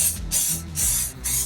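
A spray gun applies bed liner underneath a Jeep WJ Grand Cherokee, giving three loud, close bursts of hissing spray separated by short pauses.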